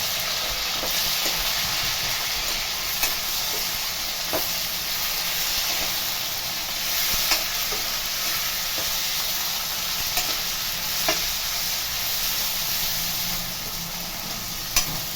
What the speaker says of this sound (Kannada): ಇದನ್ನು ಒಂದು 5 ನಿಮಿಷ ಚೆನ್ನಾಗಿ ಫ್ರೈ ಮಾಡ್ಕೊಂಡ್ಮೇಲೆ ಇದಕ್ಕೆ ಬಿಳಿ ಎಳ್ಳು ಹಾಗೆ ಕೊತ್ತಂಬರಿ ಸೊಪ್ಪನ್ನ ಹಾಕ್ಕೊಂಡು